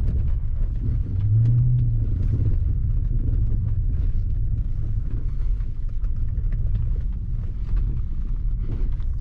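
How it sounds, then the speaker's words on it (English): A BMW 750i V8 rumbles through city streets with a steady, loud low-frequency exhaust drone and wind buffeting throughout, the burble continuous rather than broken into distinct pops. "You hear this burble popcorn sound?"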